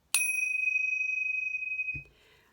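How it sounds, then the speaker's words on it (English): A meditation chime struck once, ringing out bright and clear with a long sustained tone that fades after about two seconds, followed by a soft thump. "sometimes I will use my chime to begin"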